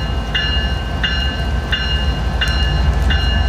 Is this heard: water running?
no